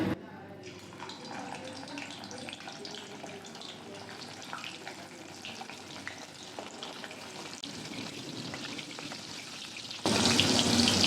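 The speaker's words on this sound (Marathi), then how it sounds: "आता इथे आपला तेल गरम झालेलं आहे, तर त्याच्यात आपण हे आपण बनवून ठेवले ते आपण टाकून घेऊया कोलंबी" Prawn fritters for kolambi pakode sizzle and crackle steadily in hot oil, a dense continuous frying hiss that swells louder at the very end, with a voice talking over it.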